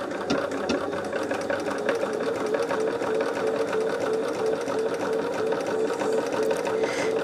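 A sewing machine stitches a quilt project, running steadily and loudly with a continuous mechanical whir and rapid rattling needle rhythm, uninterrupted throughout and with no voices.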